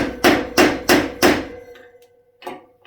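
A punch is struck with a hammer to drive a wheel bearing outer race out of a Suzuki DR200 front hub: four sharp, evenly spaced metallic blows up close, then a short pause and one lighter knock.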